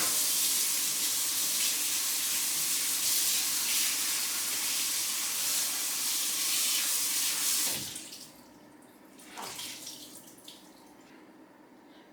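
Water pours steadily from a tap to fill a basin, a loud, even hiss that runs for several seconds and then cuts off abruptly, followed by a few faint drips and splashes.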